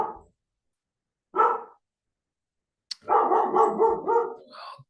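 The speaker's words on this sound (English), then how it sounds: "My dog's just going nuts." A dog barks indoors in separate bursts: a single bark, a pause, then a rapid run of several loud, close barks ending in a whiny yip.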